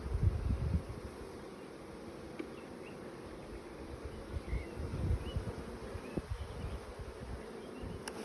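Honey bees buzz steadily around an open beehive while a beekeeper splits a colony, a dense low drone holding throughout with brief louder swells as bees pass close.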